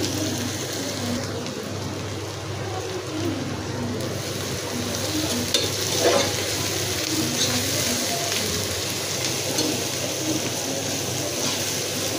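A constant soft hiss of onions frying in hot oil in a very hot pan fills the clip, steady and fairly close, with faint crackles and no talking.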